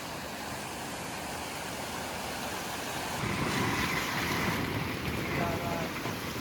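Steady broadband rush of a flooded river during monsoon rain in Konkan, loud and continuous, swelling slightly louder midway with wind buffeting the microphone.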